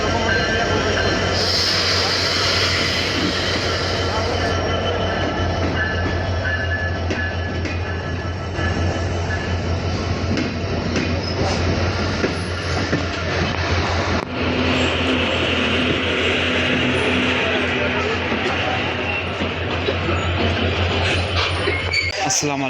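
An American-built diesel locomotive, number 24, hauls a passenger train into Saidpur railway station in Bangladesh, its steady rumble and engine drone loud and continuous with faint metallic clinks, while people talk throughout.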